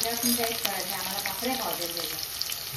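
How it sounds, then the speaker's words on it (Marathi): Onions fry in hot oil in a pan, a steady crackling sizzle with watery, splashy textures, heard close with a voice speaking faintly in the background. "तेल थोडं गरम झाल्यावरती कांदा मारून घ्यायचा"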